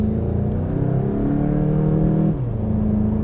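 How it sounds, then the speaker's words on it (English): A 2018 VW Golf GTI SE's engine hums steadily from inside the car on a snowy drive, a smooth low drone with a slight rise and dip in pitch, no talk over it. "You can hear that engine too. Sounds pretty good."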